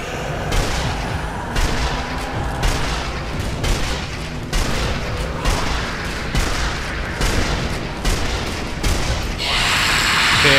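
Sustained gunfire while shooting zombies in the Sniper Elite Nazi Zombie Army video game, a loud run of repeated shots and booms with a brighter, noisier burst near the end.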